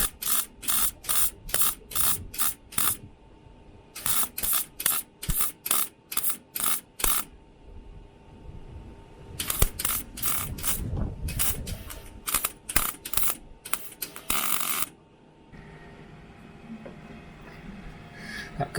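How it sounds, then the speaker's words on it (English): MIG tack welds on a repair section for a Mk3 Cortina body come as loud, sharp bursts in quick rhythmic runs with brief pauses between groups, close up, followed by a lower steady hum. "We're going to weld that on."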